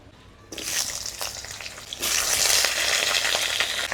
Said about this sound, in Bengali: কড়ায় বেশ খানিকটা সরষের তেল দিয়ে প্রথমে আলু পটলগুলোকে ভেজে নেব